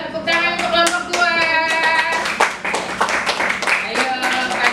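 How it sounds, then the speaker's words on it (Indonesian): A classroom claps for group two after a presentation, scattered and then fuller hand clapping under a teacher's voice speaking throughout. "yuk tepuk tangan untuk kelompok dua."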